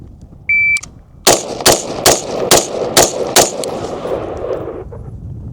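At an indoor shooting range, a shot-timer beep is followed by six sharp gunshots fired in quick, evenly spaced succession, loud and close, with a ringing decay afterward.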